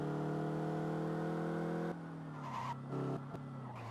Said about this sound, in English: every time I hear those tyres ostensibly scrabbling for grip